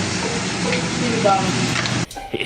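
Food frying in a pan in a kitchen, a steady close sizzle that stops abruptly near the end, with light stirring scrapes and a voice briefly heard.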